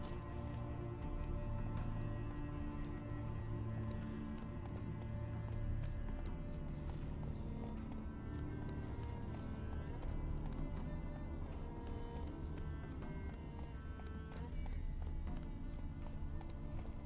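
Roach, the horse in The Witcher 3 video game, gallops steadily, a continuous rapid hoof rhythm under a swelling musical score with faint game sounds.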